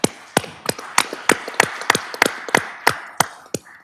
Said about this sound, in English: to give them a round of applause